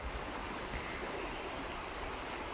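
A river stream flows steadily outdoors, a continuous broadband rush of water at moderate level with no break in its texture and no voices.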